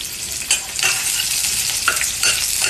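Garlic and onion frying in a pan while being stirred, a steady close sizzle broken by several scraping stirs, with no talking.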